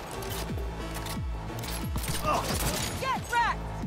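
Rapid bursts of gunfire from a powerful gun in the Cyberpunk video game, several shots in quick succession with metallic ringing tones layered over background game audio.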